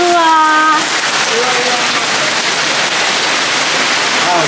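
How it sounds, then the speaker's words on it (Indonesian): Rain falling steadily outdoors as a dense, even hiss, with voices and brief tonal sounds near the start. "Hujan apa nih?"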